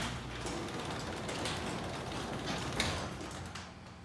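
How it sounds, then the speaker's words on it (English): Garage door opener running, a continuous mechanical grinding and rattling hum of the motor and track, steady and fairly close, with a small clunk near the end as it winds down. "There you go, we press the opener."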